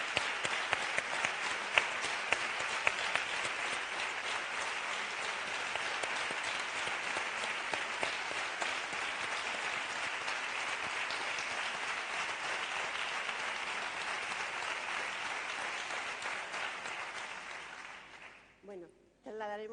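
Sustained audience applause at a conference on sexist violence, a steady wash of many hands clapping at moderate distance for most of the clip before tapering off, with a brief voice at the end.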